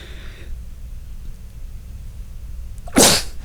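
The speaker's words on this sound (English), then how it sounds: "I can't fucking control my sneezes." A single loud, sharp human sneeze bursts out near the end after a quiet stretch of faint room noise, close to the microphone.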